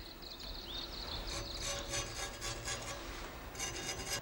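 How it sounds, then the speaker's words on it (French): Black clay mixed with pumice powder and ash being spread over a katana blade to form the hamon, a steady soft rubbing and scraping with raspy strokes, close and continuous, no voices. "Je recouvre la lame avec de l'argile noire pour donner au tranchant de la lame une ligne de trempe qu'on appelle le hamon."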